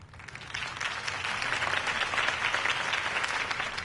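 A crowd breaks into dense, steady applause after Harvey Dent's campaign speech in the Batman Telltale Series game, a continuous hiss of clapping that holds at an even level throughout with no voices.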